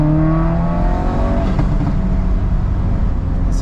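A car fitted with a 034 Motorsport Dynamic+ ECU and TCU launches hard from a stop, the engine revving up sharply and climbing through the gears in a loud rising roar.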